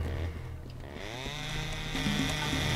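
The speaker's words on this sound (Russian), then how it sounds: "Резня бензопилой продолжает..." Chainsaw in the video game Serious Sam: The Second Encounter, a steady loud buzzing engine drone that holds throughout, with game effects and a rising pitch layered on top.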